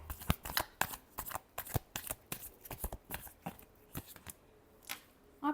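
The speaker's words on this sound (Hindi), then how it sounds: "last shuffle" Tarot cards being shuffled by hand in a quick run of crisp riffling flutters and soft slaps, close and fairly quiet, with no talking.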